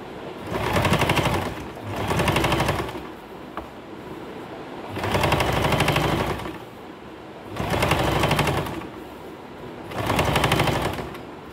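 A sewing machine runs in five steady bursts of rapid stitching while sewing the second seam line of an N-style nighty, each burst lasting about a second with short pauses between them, close and loud with no talking.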